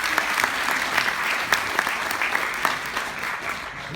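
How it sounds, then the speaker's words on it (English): A small audience claps warmly at a polyposis education night, with sharp individual claps standing out within steady applause that slowly tapers over several seconds. "a little round of applause for them"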